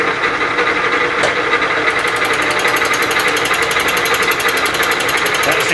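A fly cutter machines metal on a Bridgeport milling machine, making a loud, continuous rapid hammering chatter with a fast, even tick of the rotating cutter throughout.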